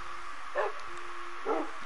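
A dog in Minecraft gives two short yips or barks about a second apart, moderately quiet over a steady background hum, with no talking.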